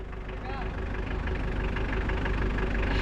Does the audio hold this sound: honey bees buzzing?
no